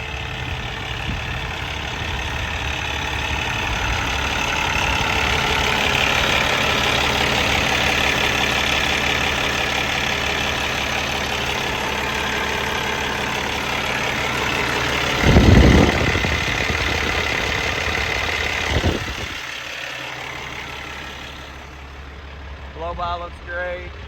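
A 2012 Peterbilt 388 triaxle heavy haul daycab idles with a steady, low diesel rumble, running hot, while someone talks briefly over the engine.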